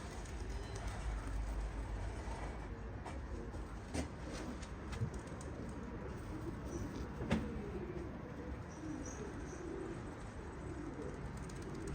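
Pigeons coo softly and repeatedly against a constant background hum, with a few faint clicks and no talking.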